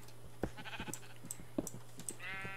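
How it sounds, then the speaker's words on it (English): Sheep in the Minecraft video game bleat in short, repeated calls against a low steady hum, fairly quiet with a few clicks scattered between the bleats. "I don't want to let the sheep out."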